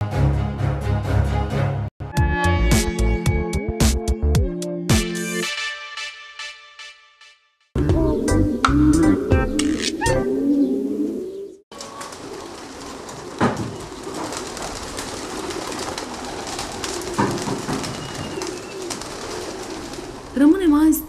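Pigeons coo and call at a pigeon breeder's loft, a soft steady murmur of birds running through the scene with some separate bursts of other sound before it.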